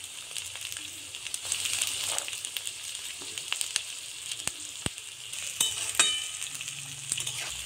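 Chopped ginger, beans and peas for a vegetable soup sizzle steadily in hot oil, with a few scraping stirs and clinks over the continuous hiss and no talk.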